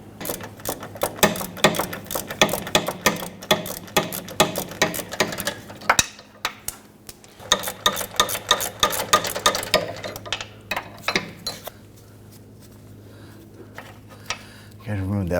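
A ratchet works loose the sway bar bushing bolts on a 2011-2015 Kia Sorento, giving rapid bursts of close mechanical clicking in repeated runs with brief pauses, then tapering off.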